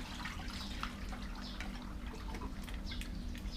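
Water pours and trickles steadily over freshly caught eels, a continuous splashing wash with scattered drips, close by and fairly loud throughout, with no speech.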